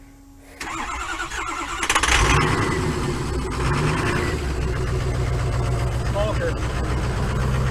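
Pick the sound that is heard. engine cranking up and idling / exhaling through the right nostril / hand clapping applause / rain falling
engine cranking up and idling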